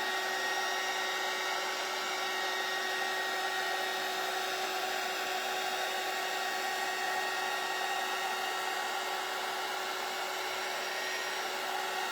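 Handheld craft heat tool drying ink on a paper print, blowing a steady, unbroken whir with a faint high whine, close and constant throughout without any pause.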